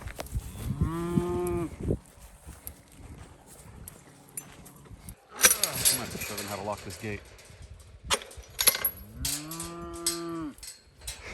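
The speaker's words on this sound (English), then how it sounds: "Of course, the cows followed." Cows on a farm moo loudly at close range in two long, drawn-out calls at the start and end, with someone speaking between them and rustling movement nearby.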